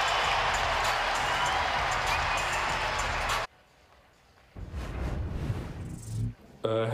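Loud, dense roar of a college basketball arena crowd at Kentucky's Rupp Arena during a media timeout against Georgia, cheering and clapping for about three and a half seconds before cutting out, then softer crowd noise and a few brief louder bursts return.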